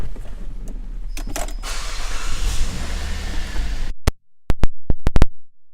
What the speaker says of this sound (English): power moonroof overhead